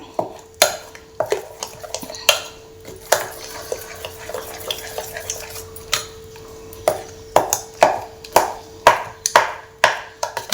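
Mango sikarane being stirred with jaggery and cardamom powder in a bowl, a regular series of close spoon clinks and scrapes against the bowl, with a faint steady tone underneath.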